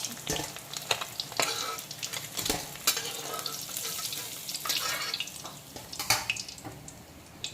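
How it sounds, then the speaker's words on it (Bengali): Pieces of Asian seabass (bhetki) frying in oil, a busy crackling sizzle punctuated by repeated sharp knocks and scrapes of a spatula against the pan; nobody speaks. "এখন চারা ভেটকির বাকি পিসগুলোকেও আমি তেলের মধ্যে দিয়ে দিচ্ছি"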